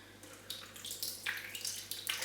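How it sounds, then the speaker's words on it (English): Berry syrup is poured and strained through a sieve, giving a close, uneven splashing trickle with small irregular bursts of liquid throughout. "Carefully pour it through the sieve and just sort of press it through."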